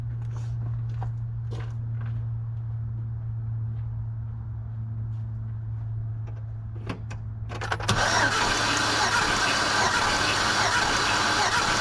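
A V8 engine cranks steadily on the starter during a cylinder 8 compression test, a low droning hum that turns into a loud, broad rush in the last few seconds, with no talking.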